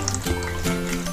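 Water trickles and splashes briefly through a small toy bath strainer, a short soft liquid dribble heard up close.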